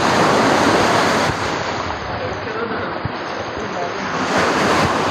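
Ocean surf roars steadily, a loud dense wash of breaking waves mixed with gusty wind buffeting the microphone.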